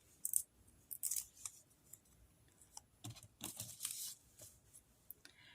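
Scissors snip around a piece of cork and foam in a few quiet, separate bursts of cutting with short pauses between them, close up, with no talking.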